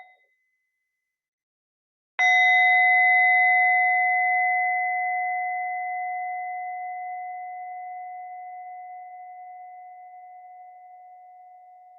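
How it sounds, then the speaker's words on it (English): A meditation bell struck once to close a dharma session, ringing out with a clear sustained tone that fades slowly over many seconds after a moment of silence. "I'll offer a sound of the bell to close"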